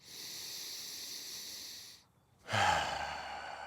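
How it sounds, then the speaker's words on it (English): A person takes a long, even inhale through the nose and then, after a short pause, lets out a louder, rougher breath through the mouth. It is close and breathy, with no talk. "In through your nose, big release through your mouth."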